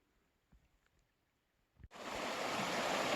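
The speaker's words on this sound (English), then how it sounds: "A decent sized river crossing." A decent-sized river rushes at a crossing beside a log jam on a mountain trail in fall, starting abruptly as a loud steady wash after near silence and a few faint footsteps.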